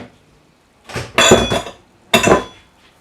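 A spoon clinks and scrapes against a bowl while salt and sugar are stirred into boiling water for a whole-chicken brine, in two short bursts of stirring close by.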